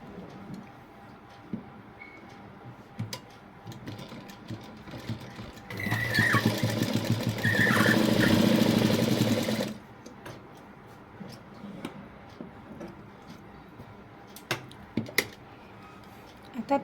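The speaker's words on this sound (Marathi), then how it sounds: "आता याच्यावरतीच आपण शिलाई मारायची आहे" A sewing machine stitching fabric for tucks runs in one steady, fairly loud burst of about four seconds, with quieter handling clicks and rustles before and after.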